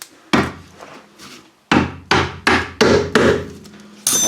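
Sharp hammer blows strike a rear suspension bushing on a Daihatsu Charade under restoration, seven or so loud, hard knocks coming in an uneven rhythm with short ringing decays, no talking.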